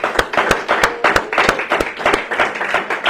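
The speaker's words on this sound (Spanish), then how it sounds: "démosle un fuerte aplauso a nuestro Dios" A church congregation gives loud applause to God during a service. The rhythmic, fairly even claps ring out close by for a few seconds, with a faint voice underneath.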